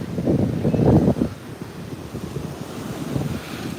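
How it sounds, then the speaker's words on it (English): Ocean waves wash onto a beach as wind buffets the microphone, giving a low rumbling surge that swells early and then settles into a softer, continuous wash. "so you can just listen to the waves"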